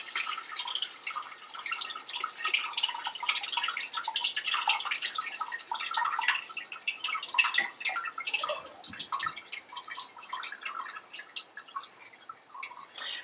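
Curds and whey for homemade ricotta pour and drain through a strainer into a container, a steady close trickle and patter of liquid with dripping running throughout.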